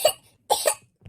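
A cartoon character coughs in a children's doctor scene: one sharp cough, then a pair of quick coughs and a small final one, close and clear.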